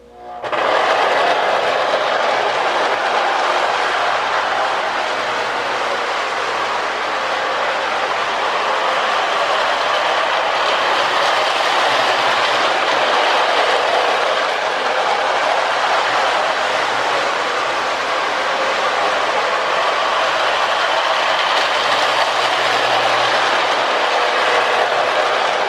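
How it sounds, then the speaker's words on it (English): Two motorized tin toy subway cars run together on the same track, one with a slightly faster motor, giving a loud, continuous whirring rattle with faint clicking that holds steady throughout, close and with no talk. "tin subway cars on the same track"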